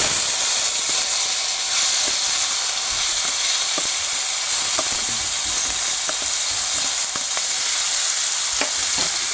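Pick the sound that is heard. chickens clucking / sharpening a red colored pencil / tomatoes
tomatoes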